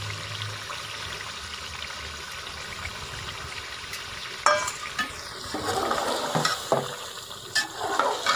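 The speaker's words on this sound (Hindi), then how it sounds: "अब इसमें जो अंडे फेंट के रखे थे वो डाल देंगे।" Beaten eggs go into a frying egg and potato curry cooked in ghee: a soft, even sizzle, then a sudden burst of louder crackling and stirring clatter partway through that stays lively to the end.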